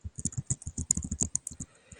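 Fast, uneven typing on a computer keyboard, a dense run of close, light key clicks with a few sharper taps and brief pauses.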